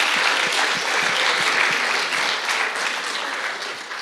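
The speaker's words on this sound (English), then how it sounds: "Please, applause for them." Sustained audience applause fills the room at a finals and awards ceremony for the DATACUP 2023 competition, a dense, steady crowd clapping that holds at full strength for the whole stretch with no voices over it.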